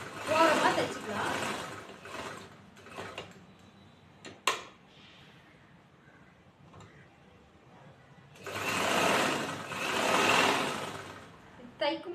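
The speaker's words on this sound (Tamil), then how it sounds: "ஓரமாக தைச்சிக்கலாம்." A sewing machine stitches piping along the edge of a chudithar top, running in a couple of short bursts and then a longer steady whir near the end, with quieter handling in between.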